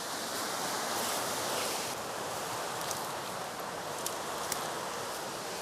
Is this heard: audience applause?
no